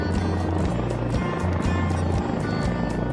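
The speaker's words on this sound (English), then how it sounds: "Some lucky cows even get the honor of taking flight by helicopter" A helicopter flies steadily overhead while transporting cattle, its low rotor throb pulsing continuously and loudly with a broad engine roar throughout, and no talking.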